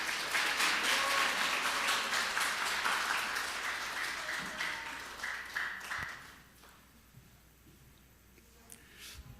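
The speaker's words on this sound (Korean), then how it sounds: "우리 큰 박수와 환호로 하나님께 영광 돌려드리겠습니다." A church congregation at a Sunday worship service applauds and cheers, steady dense clapping that starts loud and gradually fades away over several seconds.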